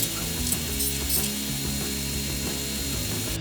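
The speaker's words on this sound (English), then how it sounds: "I'm using my homemade disc sander just to kind of round off the edges" A homemade disc sander rounds off the edges of a plywood mold, giving a continuous, steady mechanical whir with a faint rattling texture throughout and no voices.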